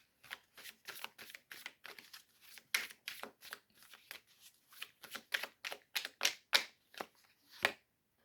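Oracle cards are shuffled by hand in a quiet room, a close, soft run of quick riffling flicks and slaps in uneven bursts, ending with a sharper snap, no talking.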